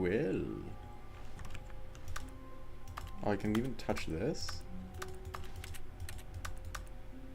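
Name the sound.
keyboard sounds in video game The Stanley Parable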